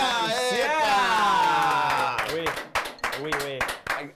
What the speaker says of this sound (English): I clap like my daughter.